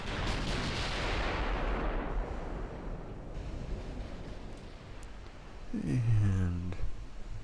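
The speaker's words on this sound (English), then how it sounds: "make sure I keep all the guns, all 9 guns firing" Naval guns on a warship in the Ultimate Admiral: Dreadnoughts game boom in a heavy rolling salvo, the roar decaying into a long rumbling wash before another swelling blast with a descending whistle near the end.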